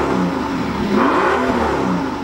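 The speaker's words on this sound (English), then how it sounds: "a handcrafted 6-liter bi-turbo V12 that produces a monstrous 621 horsepower and 738 pound-feet of torque" Mercedes S65 AMG's handcrafted 6-liter twin-turbo V12 rises and falls in a smooth, loud rev, heard close with a steady mid-pitched roar and no talking.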